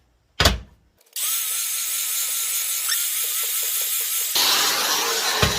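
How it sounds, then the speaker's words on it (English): Grinder shaping the edge of a steel swage block: a sharp knock, a short pause, then the tool spins up into a steady loud whine with grinding, which brightens near the end, close and continuous. "I'm going to go over it again with the grinder."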